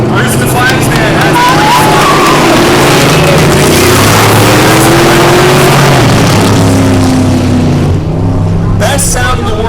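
Dirt track race cars and trucks fire their engines at once, a loud, dense, continuous roar of revving motors that fills the whole stretch, steady and close, with voices faintly underneath.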